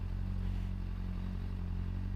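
Motorcycle idling while being parked outside a restaurant in Lisbon, a low steady engine drone with faint clatter, fairly quiet and continuous.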